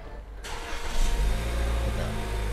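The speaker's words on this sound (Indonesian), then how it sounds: "Nah tipe lengkapnya saya engine start aja ya." A Lexus F-Sport SUV engine cranks and fires up, then settles into a steady idle with a slight rev, close and fairly loud, with someone talking over it.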